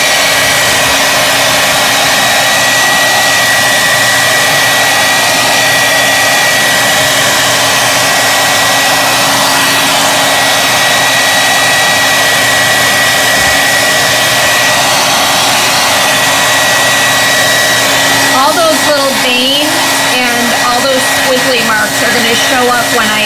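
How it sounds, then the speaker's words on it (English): Hair dryer blowing on paint over a mold while making a pumpkin fairy house, a loud steady close-up whoosh held throughout, with faint speech coming through near the end. "So let me give that a quick dry, and then we're going to go ahead and release the mold."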